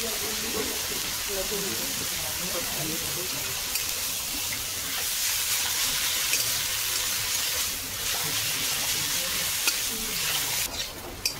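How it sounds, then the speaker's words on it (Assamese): Taro leaves sprinkled with a little salt fry in a pan, giving a long, steady sizzling hiss with occasional soft stirring scrapes. "এতিয়া আমাৰ পাত ভাজিখিনি হৈ গ'ল।"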